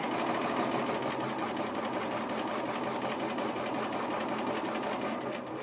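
A sewing machine runs steadily as it stitches a dart in fabric, a loud, close, continuous mechanical whirr with rapid needle chatter and no speech.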